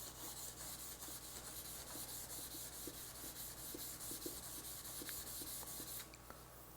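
Steady, rhythmic scratchy rubbing of sandpaper on a painted edge under gloss clear coat, close and continuous with even back-and-forth strokes, ending with a slightly softer pass.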